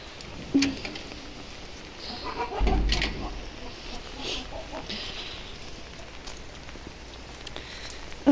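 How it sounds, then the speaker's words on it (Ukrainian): Steady rain falling outdoors at a rural yard, a constant soft hiss of drops with occasional louder patters and faint animal sounds in the background, with a voice speaking briefly. "Дощ який гарний"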